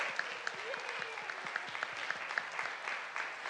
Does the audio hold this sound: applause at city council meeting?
yes